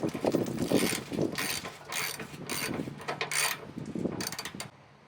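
A ratchet wrench cranks down mud flap bolts on a 2021+ Ford Bronco in quick, close, loud clicking bursts with short pauses between strokes, then falls quiet at the end.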